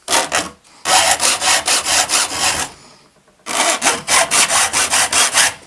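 A steel file sharpening the isosceles teeth of a hand saw: about a dozen quick, even rasping strokes in two close, loud bursts, separated by a short pause.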